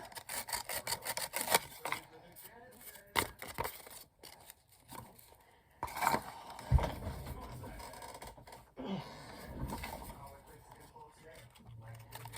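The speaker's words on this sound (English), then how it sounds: "Let's just take it off a little more with the sandpaper." Sandpaper rubbed against a roughed-up edge of a paper craft piece, giving short, close scratchy rasps in bursts, with a person talking intermittently over it.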